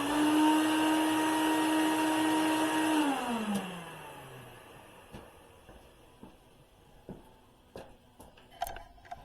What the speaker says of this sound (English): I don't know if this is something you really want to watch with me vacuum